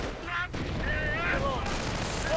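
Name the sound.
gunfire in video game battle, riflemen assaulting Grenadiers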